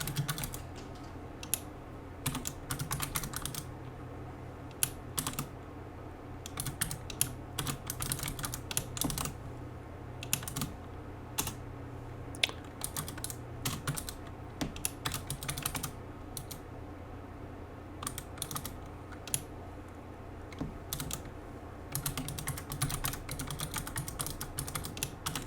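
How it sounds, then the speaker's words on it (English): Code being typed on a computer keyboard while building a Godot 4.3 game, with a steady stream of close, crisp key clicks in quick irregular bursts and brief pauses, heard alone over a faint room hum. "let's finish typing this code first"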